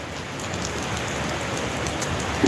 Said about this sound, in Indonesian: Ya ampunnya hujannya deras sekali.